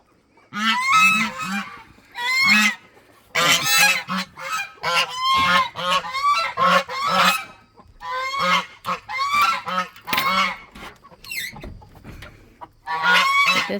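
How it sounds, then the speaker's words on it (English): A mother goose honks repeatedly in loud, harsh bursts while chasing chickens, the calls coming in clustered volleys with short pauses between them, close and dominant throughout. "This mama goose is just terrorizing my chickens."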